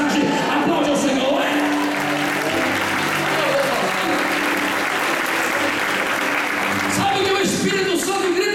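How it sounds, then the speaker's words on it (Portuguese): Church congregation applauding steadily throughout, a dense continuous wash of clapping with voices and cheering mixed in, loud and close, swelling again near the end. "aplaude ao Senhor"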